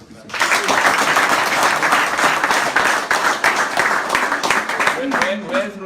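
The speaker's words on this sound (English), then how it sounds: "let's clap hands for Peter." An audience applauds steadily at a public event, a dense, sustained wash of clapping that stays loud for several seconds, with voices emerging near the end.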